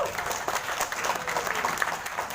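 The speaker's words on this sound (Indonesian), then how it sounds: "Tepuk tangan." Applause from an audience at a Banyumasan gendhing cultural festival, scattered clapping with uneven bursts and some crowd noise throughout.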